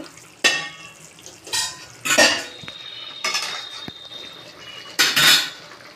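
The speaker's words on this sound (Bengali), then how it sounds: "তিন মিনিট পর এলাম ঢাকনাটা খুলে দেখবো" A metal lid comes off a pot of fish curry with green banana, potato and long beans, producing several sharp clanks and scrapes of metal on cookware spread over a few seconds, with no voices.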